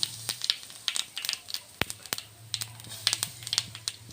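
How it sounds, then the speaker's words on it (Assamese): Cumin seeds hit hot oil in a village-style kitchen and pop and crackle in quick, irregular sharp bursts, fairly quiet and close, with no voices over them. "তেল গৰম হৈ আছে, মই ইয়াত জিৰা 2টামান দি দিছোঁ।"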